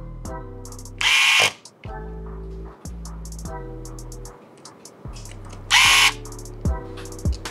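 A screwdriver fastens small screws on a vivo Y50 phone during an LCD replacement: repeated short whirring runs with clicks between them, plus two louder hissing bursts, close up.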